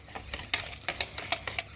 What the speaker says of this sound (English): to the wet ingredients, you add your sugar. Okay, and you whisk